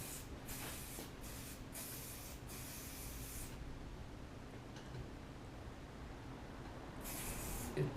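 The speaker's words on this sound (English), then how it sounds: "it's never finished until you blast the hairspray." Hairspray hissing from an aerosol can during a salon haircut, several short bursts in quick succession followed by a pause and one more long spray, close and fairly quiet.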